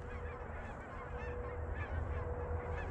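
A flock of geese honks continuously during a goose hunt, a dense, steady chorus of calls close overhead with no talk.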